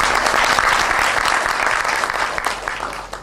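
Audience applause for panelists at a panel discussion event, a loud continuous wash of clapping from a sizable crowd that holds steady and then tapers slightly toward the end.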